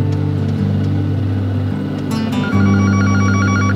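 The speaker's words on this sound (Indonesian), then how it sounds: "maaf, telepon, Bang." A telephone rings with a repeating electronic ringtone that starts partway through, sounding over a steady low engine hum, apparently inside a car; no one speaks.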